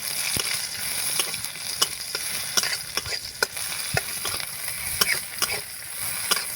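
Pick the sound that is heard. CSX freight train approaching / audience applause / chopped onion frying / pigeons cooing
chopped onion frying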